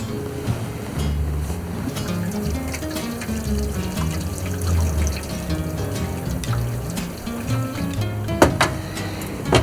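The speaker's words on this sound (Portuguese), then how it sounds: "e agora sim colocamos a água." Water pours steadily into an oven tray around custard cups for a bain-marie in an oven preheated to 120 degrees, making a continuous close splashing trickle throughout.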